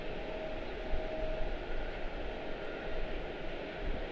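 An airliner departing Charlotte-Douglas airport gives a steady, distant jet rumble and roar, faint and even throughout, with no voices.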